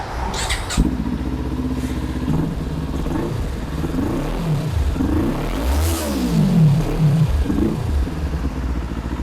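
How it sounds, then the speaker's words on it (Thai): A 2019 Kawasaki Ninja 400 engine with an aftermarket exhaust revs up and down repeatedly, its throaty exhaust rising and falling in pitch, loud and close with no talking. "มีท่อนะครับ ทรงอาคาโบวิกนะครับเดี๋ยวจะลองให้ฟังเสียงเครื่องยนต์กันดูนะครับ"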